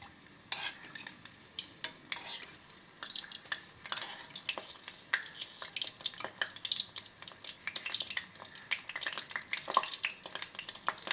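Potato chaat bowls fry slowly in shallow oil, giving a continuous crackling sizzle with dense, irregular pops throughout, close and moderately loud, with no voices.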